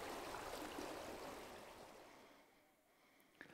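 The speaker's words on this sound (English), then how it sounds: "Actually, the sound of water is a good link." Flowing water from a natural setting rushes steadily as broadband noise, loud at first and gradually easing toward the end, with a faint brief knock near the close and no voices.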